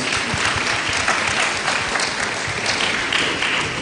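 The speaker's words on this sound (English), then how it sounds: "Let's give all of us a big round of applause." Audience at a diaspora conference in Jamaica breaking into loud, sustained applause, a dense and even clapping that fills the room for the whole stretch, heard close with no talk over it.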